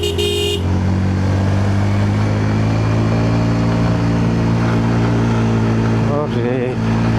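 A vehicle engine labours in first gear up the steep, winding road to Keokradong, about 3,500 feet above sea level, a loud steady drone with a brief horn-like tone at the start and a wavering pitch near the end.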